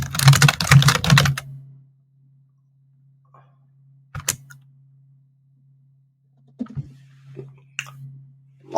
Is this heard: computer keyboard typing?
yes